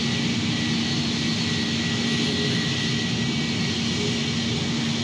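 A jet airliner's engines roar steadily in Project Flight, a flight simulator game, during a rough landing with spoilers deployed, giving an unbroken, continuous drone that holds even from start to end with no voices.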